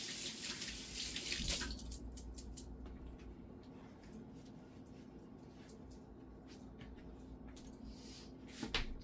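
Hands being rinsed under a running kitchen tap, a steady close stream of water splashing with a brief louder burst near the start and again at the end, no talking.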